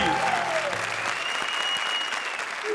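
Steady applause from a studio audience at a TV comedy show, dense clapping filling the whole moment, with a faint tone and murmur mixed in.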